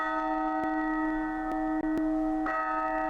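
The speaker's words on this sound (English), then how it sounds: "From the direction of the castle comes the sound of the great bell, an emergency assembly signal to the soldiers patrolling the streets" A great castle bell in the Lost Odyssey video game sounds an emergency assembly signal for soldiers, its sustained metallic tone humming steadily with several distinct strikes ringing through.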